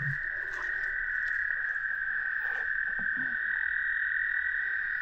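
Spring peeper frogs calling at night, a dense chorus of high, continuous peeps heard close and steady, with faint rustling below.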